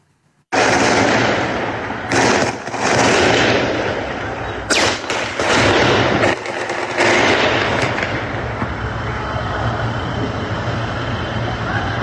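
Sustained loud bursts of rapid gunfire crackle almost continuously, with a few brief gaps, over a dense rumbling background, during a street attack in Dagestan.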